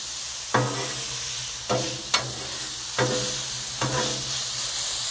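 Hibachi noodle ingredients fry on a Blackstone griddle with a constant close sizzle, while a spatula strikes and scrapes the metal surface four or five times at irregular intervals.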